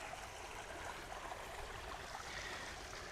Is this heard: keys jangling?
no